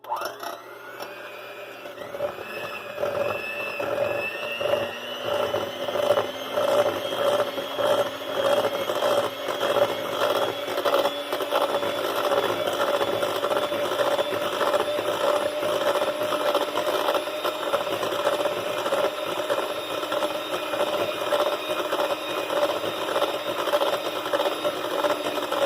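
A sweet potato pie filling is mixed with an electric mixer, giving a steady motorized whir that runs continuously and close by for most of the stretch, with no talk over it.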